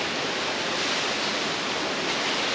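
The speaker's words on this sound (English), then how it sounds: "We made it to our third waterfall, Watson Falls, the third highest waterfall in Oregon" Watson Falls, a waterfall in Oregon some 230 to 270 feet high, pours in a steady, full roar of broadband rushing water, close and unbroken throughout with no voices.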